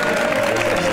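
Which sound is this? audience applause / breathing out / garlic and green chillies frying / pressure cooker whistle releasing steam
audience applause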